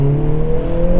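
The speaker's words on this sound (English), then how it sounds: "Let's give it a little rev match into second," Hyundai Veloster N engine held at a steady, loud drone during a rev-matched downshift into second gear, a continuous close-up hum with no voices over it.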